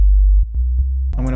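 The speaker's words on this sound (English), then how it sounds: "it'll make a pretty cool sub bass" A deep synthesized sub bass tone made in FL Studio 20 drones with a few short low thumps, then a voice starts speaking at the end.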